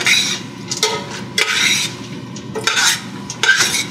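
Spaghetti carbonara pasta being stirred in a pan with pancetta, olive oil and garlic, giving close, repeated scraping and clattering strokes with a light sizzle underneath.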